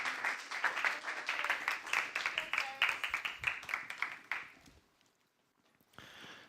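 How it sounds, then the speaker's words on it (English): A conference audience claps for about four and a half seconds to welcome a speaker on Oracle network attack costs. The dense claps then taper off into near silence, with a brief rustle at the end. "Round of applause for..."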